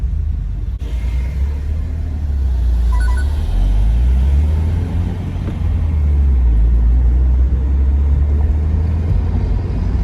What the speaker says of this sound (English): I like that rumble, and I will never install equal headers, equal length headers, just because it would get rid of the rumble